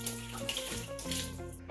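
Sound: water poured down a drain

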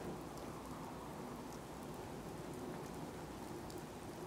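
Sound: rain in the video game Fallout 4

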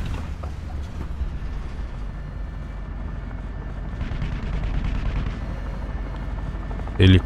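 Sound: helicopter in a video game

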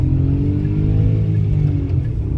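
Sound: Kia Picanto 1.0 automatic accelerating at full throttle

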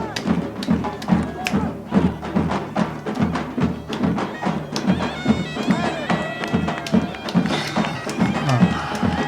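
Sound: drum beating

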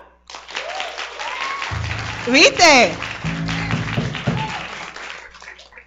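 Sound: audience applause for contestants

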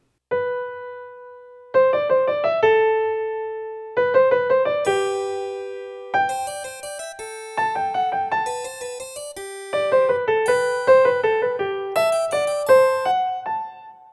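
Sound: piano playing two-voice canon

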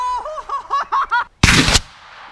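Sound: rocket knife firing and cutting through oobleck

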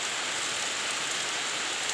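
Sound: heavy rain pouring outside

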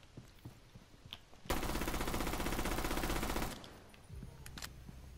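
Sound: gun unloading a whole magazine in a video game

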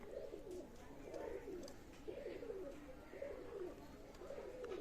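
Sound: Pakistani high-flyer pigeons cooing

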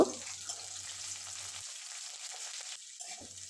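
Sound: onion frying in hot oil with dried chilli and nigella seeds

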